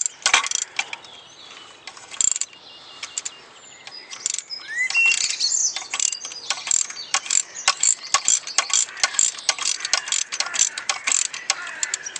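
A ratchet wrench tightens the ignition coil bolt on a Nissan Micra K11, sounding as rapid close clicking in uneven bursts, with birds chirping faintly in the background and no talking.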